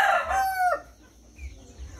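A rooster crows once, loud and close, its call falling away and ending in a brief quieter trailing note.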